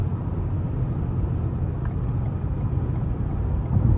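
A 2022 Toyota Camry Hybrid XLE cruising on the road, with a steady low rumble of road and engine noise from inside the cabin that stays even throughout and swells slightly at the end.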